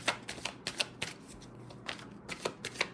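Tarot cards being shuffled and drawn for a reading: a series of quick, crisp riffling and flicking bursts in an irregular rhythm, close and clear, with no speech.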